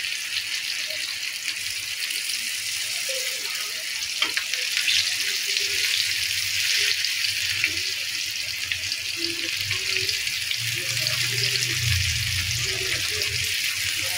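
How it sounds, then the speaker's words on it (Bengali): Sweet pumpkin slices coated in spices fry in a pan with a loud, continuous crackling sizzle that runs throughout, plus occasional low clunks of the pan or spatula. "এবার ভালোভাবে 2 পিঠ ভেজে নেব।"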